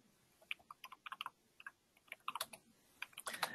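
Computer keyboard typing out a natural language search command, a faint, close patter of irregular key taps and clicks in quick runs, with no one speaking.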